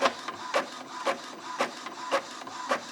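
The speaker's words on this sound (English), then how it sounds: "I'm turning this on and I'm going to print my sticker sheet." A printer printing a sticker sheet, sounding as a regular rhythmic cycle of close mechanical sweeps and clicks about every half second, with no talking.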